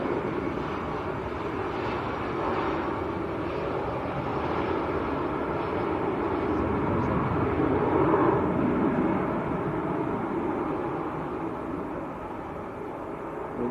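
Ice Air airplane rolling down the runway for takeoff at Manchester Airport, a broad, steady jet engine roar heard from a distance that swells slightly midway and stays constant throughout.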